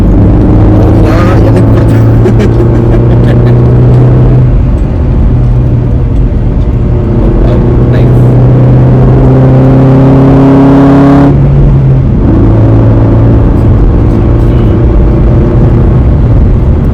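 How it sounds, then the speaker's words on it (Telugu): A Jaguar XF in dynamic mode accelerates hard at full throttle from inside the cabin, its engine note rising loudly through the revs with gear-change dips around four and twelve seconds before climbing again, and no voices. "this is full throttle"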